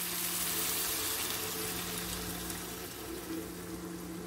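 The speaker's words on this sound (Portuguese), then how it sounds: "agora eu vou colocar aqui a água aqui, ó." Water pours into a cooking pot holding ground-beef meatballs in a home kitchen, a broad rushing splash that is strongest at first and gradually quiets, over a faint steady hum, with no talk.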